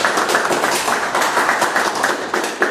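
Members and guests at a Toastmasters club meeting give a round of applause to welcome a distinguished Toastmaster, a loud, dense and continuous patter of many hands with slight surges, no talk over it.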